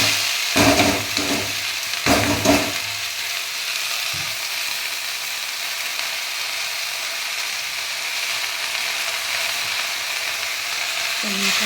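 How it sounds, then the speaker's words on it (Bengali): Water spinach fries in a pan with a continuous close sizzle, opened by a few sharp clattering stirs and scrapes before settling into an even hiss with no voices. "এই যে কলমি শাক কলমি শাক ভাজা"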